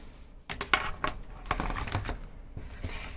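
Clacking keystrokes on a cheap plastic computer keyboard, irregular bursts of close, sharp taps with short pauses between them, no voices.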